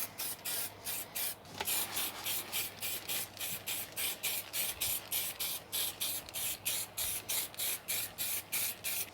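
Primer sprayed from a can onto a Commodore 64 case in a long series of short, even bursts, close and hissing, with regular gaps between passes.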